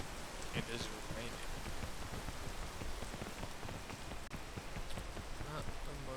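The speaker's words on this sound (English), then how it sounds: "It is raining." Steady rain falls in a video game, a dense, even patter of drops that continues unbroken from start to finish without any voices over it.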